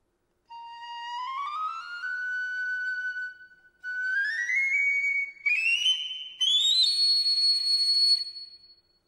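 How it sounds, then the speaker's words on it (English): A solo piccolo plays bright, piercing held notes that step upward in pitch across several sustained phrases, with brief pauses between them. "The piccolo."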